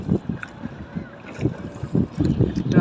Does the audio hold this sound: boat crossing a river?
yes